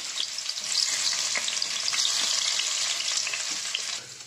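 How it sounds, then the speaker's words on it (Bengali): Sliced onions sizzle in hot oil for a lote fish bhorta, a close, steady, crackling fry that holds evenly throughout and eases off slightly at the end, with no voices. "পেঁয়াজগুলো আমি ছেড়ে দেবো। পেঁয়াজটা লাল করে ভেজে নেব।"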